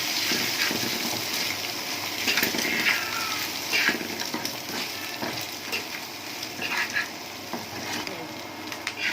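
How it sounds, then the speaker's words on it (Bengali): An egg seasoned with salt and turmeric fries in a pan, giving a steady close sizzle and crackle with occasional stirring scrapes throughout, no talking. "ডিমটা ভালো করে ভেজে নিলাম সুন্দর করে"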